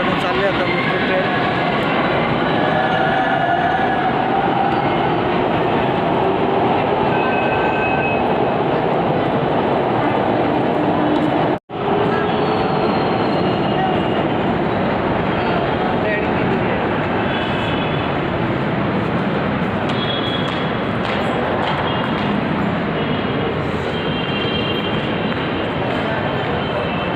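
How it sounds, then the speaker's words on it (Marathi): A metro train runs on its line with a steady, loud rumble and rushing roar that fills the whole stretch, broken once by a brief dropout, with no talk over it. "ट्रेन इकडनं चालले आता मेट्रो ट्रेन."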